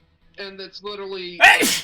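A person sneezes once, sharp and close, right after a short stretch of their own speech.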